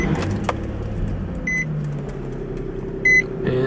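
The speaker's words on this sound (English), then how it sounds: "And we have the car started." A manual car started with the key in the ignition while the clutch is held down: a jingle of keys and a couple of short electronic chimes, then the engine catches and settles into a steady, low idle close by.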